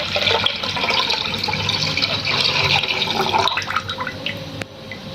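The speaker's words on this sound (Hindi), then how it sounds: "उसके अंदर 1 लीटर दूध जाएगा।" Liquid pours steadily into a pan for about five seconds, a continuous close splashing and trickling that stays loud, with no talking. One litre of milk is being added for Eid rice kheer.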